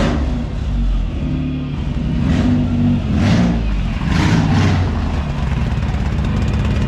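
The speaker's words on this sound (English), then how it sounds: "This thing is moving under its own power, under its own V6 power for the first." A Toyota MR2 Spyder with a swapped Camry 1MZ V6 drives under its own power for the first time, its engine a loud, close, low rumble with uneven surging revs that may hint at misfiring.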